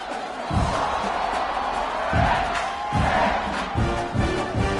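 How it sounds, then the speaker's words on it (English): Virtual home crowd in the NCAA 26 football game roaring after a punt return, a steady wash of cheering with swells and a few sharp thumps, sustained and fairly loud throughout. "You can hear this home crowd going bananas."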